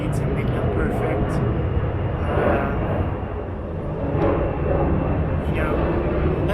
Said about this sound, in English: let's just wait for that airplane